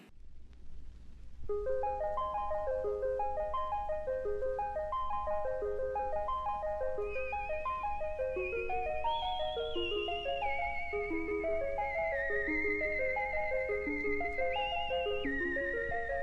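Bright electronic synthesizer music with bubbling, repeating arpeggiated notes and a steady low drone, playing alone without any voices.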